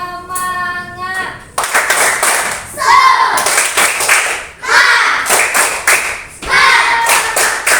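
Children perform the rhythmic tepuk semangat clapping routine in a classroom, loud patterned bursts of claps in quick sets with short pauses between, after an adult voice speaks briefly at the start.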